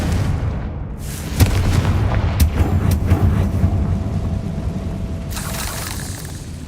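Confringo blast spells explode in the video game Hogwarts Legacy, with several booming hits and sharp bursts landing over a rumbling background, loud and close, no speech over them.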